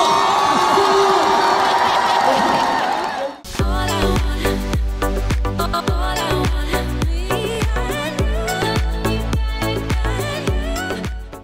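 A concert crowd at a show claps and cheers loudly for a few seconds in a dense roar, then loud music takes over.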